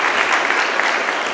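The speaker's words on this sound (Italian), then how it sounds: "Facciamo un applauso." Audience applause welcoming a guest professor at a talk on human brotherhood in Corridonia, a dense, even burst of clapping throughout.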